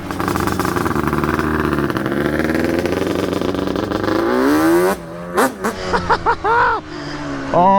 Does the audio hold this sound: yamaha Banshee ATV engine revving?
yes